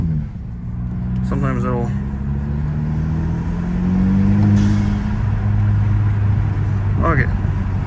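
Hyundai Elantra N-line with a cold air intake, driven in a low gear: a steady engine drone rising and falling under boost inside the cabin, while a person talks briefly over it.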